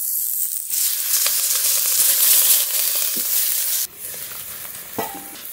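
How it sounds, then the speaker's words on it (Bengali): Koi fish paturi sizzles loudly in hot oil in a pan, a bright continuous hiss that drops suddenly near the end as the heat or the pieces shift, with a few soft utensil clinks. "বাকিগুলো একইভাবে ভেজে নেব।"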